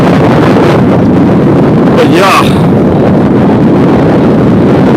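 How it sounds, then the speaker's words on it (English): Heavy wind buffets the microphone in a loud, continuous roar, with someone speaking briefly underneath. "It is very windy."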